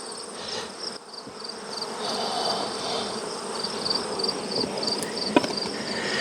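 Bees buzz around a hive in a continuous, dense drone, moderately close and steady, with faint occasional knocks and no talk.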